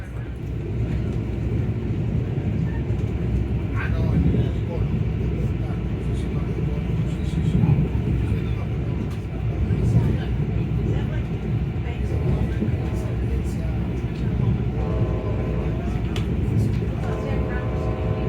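Brightline passenger train cruising at about 90 mph, heard from inside the cabin as a steady, loud rumble and rolling roar that persists throughout, with faint voices mixed in.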